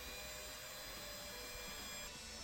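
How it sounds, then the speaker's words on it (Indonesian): Electric bread mixer beating cinnamon bun dough with egg and cinnamon: a faint, steady motor whir continues evenly throughout, with no talking. "Lalu kita mixer pakai mixer roti"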